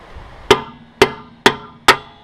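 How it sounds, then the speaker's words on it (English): Four loud, sharp metallic strikes from a heavy-duty mallet driving out a broken wheel lug nut stud, evenly spaced about half a second apart with short ringing decays. "just hammer it out, and it is out"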